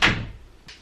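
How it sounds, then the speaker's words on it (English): A door shuts once with a sharp, close thud that decays quickly, followed by a faint second knock or latch click. "I'm gonna close the door."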